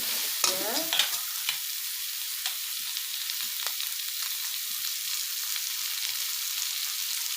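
Duck meat and potatoes being stirred in a frying pan, with a soft steady sizzle and a few scraping clicks of the spoon near the start, fading into a continuous quiet frying hiss.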